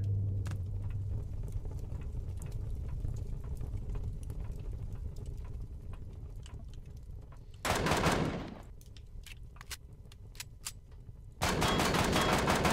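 Pistol gunfire in the video game Empyrion Galactic Survival: a run of sharp, separate shots, then a louder burst, more scattered pops, and a final dense stretch of firing over steady background game noise.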